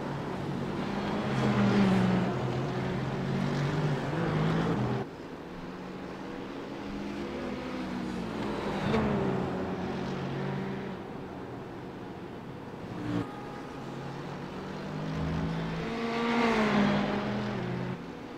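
Ferrari GT3 race car engine in a racing video game at the Charlotte Roval, droning steadily with rising and falling pitch through gear changes and two abrupt shift cuts, continuous and fairly loud with no talk.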